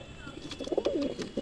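A pair of blue-tailed pigeons coo in soft, rolling low notes close by, a burst of warbling calls rising toward the middle, with faint background noise.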